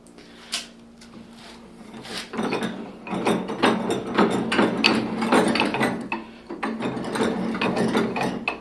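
A vise mounted on a Harbor Freight work bench being cranked, giving a run of close mechanical ratcheting clicks and metal creaks that build after a quiet start and continue steadily with a few sharp knocks.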